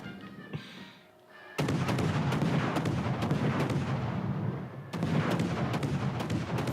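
Naval guns fire in the World of Warships: Legends video game, with one heavy boom followed by a sustained roaring rumble of salvos. A second burst of gunfire breaks in partway through, loud and close, with no speech.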